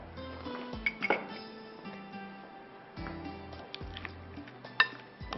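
Burger mixture for a BBQ fish burger being mixed in a bowl, with soft stirring and scraping plus a few close clinks of a utensil against the bowl, quiet and irregular.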